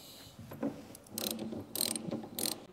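Ratchet loosening 11 mm bolts clamping a Caterham steering column, several quick clicking pulls heard close and fairly faint, in three short bursts.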